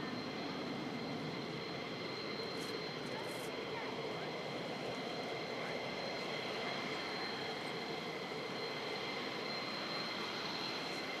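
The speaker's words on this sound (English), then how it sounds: "Now these are F-15s," F-15 fighter jets at RAF Lakenheath air base produce a steady, broad, distant engine roar that fills the whole stretch without a break.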